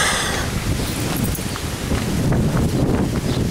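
Strong, chilly outdoor wind buffets the microphone in a steady loud roar with gusty swells and rustling, continuous throughout with no voice.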